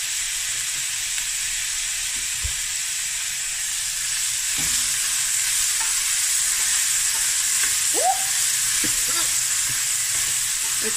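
Onions sizzling in oil in a pan for a hake and snoek fish curry, a loud continuous hiss and crackle up close with a few faint clinks of utensils, no talk.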